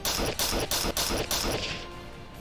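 A gun in the crab fighting game Fight Crab fires rapid continuous shots in a steady burst of about six loud hits before trailing off, with no speech over it.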